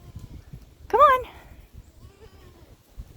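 A goat on a small family farm gives a single clear bleat, wavering and fairly close, standing out briefly over low background rustle and faint speech.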